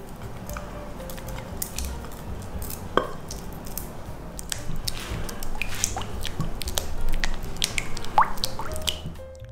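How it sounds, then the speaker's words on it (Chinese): Syrup, osmanthus sauce and oil stirred together in a large bowl, giving a steady run of wet squishing and dripping sounds with occasional clinks against the bowl, close up and alone. "倒在里面简单的搅拌一下。"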